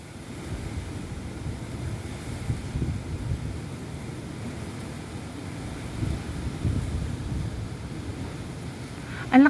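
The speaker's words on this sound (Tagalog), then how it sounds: "Ang lakas ng hangin, no?" Strong wind gusts across a foggy mountain peak, a steady broad rushing roar that buffets the microphone throughout, with a brief sharper sound at the very end.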